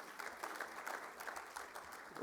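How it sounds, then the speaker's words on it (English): Audience applause at a professional development session, a soft, steady patter of many hands clapping, faint and distant, lasting briefly. "you ought to give him a round of applause for sure"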